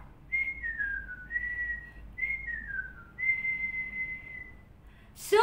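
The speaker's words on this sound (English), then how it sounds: "Daddy whistled as he worked." A man whistles a simple tune of several sliding, descending phrases at moderate loudness while working on a table, with a quiet room background and a brief louder noise at the very end.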